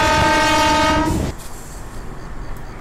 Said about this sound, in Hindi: अभी हम लोग हॉर्न बजा के यहाँ से आप डिपार्ट करेंगे।